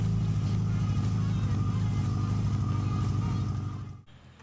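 A high-compression Honda B20 VTEC engine on a Skunk2 street build drones loudly and steadily with a deep rumble, then cuts off abruptly near the end.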